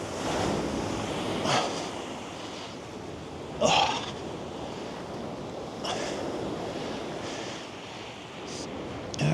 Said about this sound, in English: See if we can catch any big waves coming in.